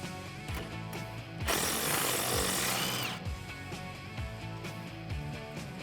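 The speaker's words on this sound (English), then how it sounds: "I'm just gonna take out that bolt." Rattling buzz of a power ratchet with a 10mm socket backing out a bracket bolt on a Toyota Tacoma, a short loud burst in the middle flanked by clicks and clanks of tool handling.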